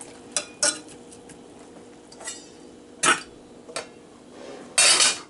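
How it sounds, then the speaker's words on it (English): Rhubarb and sugar cooking down in a pot, stirred gently with a spoon that scrapes and clinks against the side in several short, separated strokes, with a quiet bubbling background between them. "So now you just stir it gently and keep cooking it down until it gets very soft."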